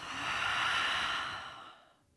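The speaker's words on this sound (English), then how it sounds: "Exhale through the mouth." A single long breath pushed out through the mouth at the close of a beginner morning yoga flow, a close, airy sigh that swells and then fades into quiet.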